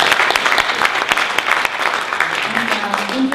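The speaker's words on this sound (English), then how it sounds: "So maybe we can have a round of applause for the" A veterans' peace event audience breaks into steady applause, dense clapping that carries on throughout, with some voices faintly mixed in.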